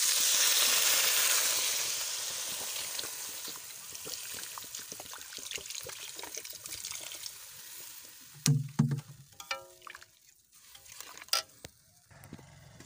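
Crab curry in a pot sizzles and bubbles loudly at first, fading into softer frying with stirring scrapes and a few sharp clinks and splashes as water goes in.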